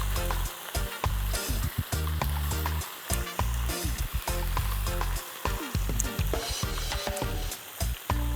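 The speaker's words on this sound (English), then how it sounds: "So we're just searing the salmon here." Salmon searing in a pan outdoors, a continuous loud sizzle and spatter with rhythmic scraping and stirring clatter throughout.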